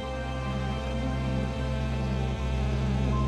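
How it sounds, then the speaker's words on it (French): Honey bees buzzing as they fly out over new ground in Corsica, a steady dense drone with a low hum throughout, close and continuous with no voices. "les abeilles que Pierre Carli a déplacées la veille découvrent leur nouveau terrain de jeu"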